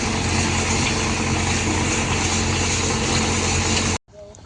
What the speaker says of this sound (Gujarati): ટ્રેક્ટર હવે ધીમે ધીમે હાલતું થઈ ગયું છે.